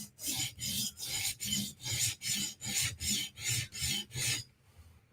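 A knife blade is drawn across a whetstone in about ten steady, even strokes, each a loud close rasp with brief gaps between, the last stroke followed by a short pause.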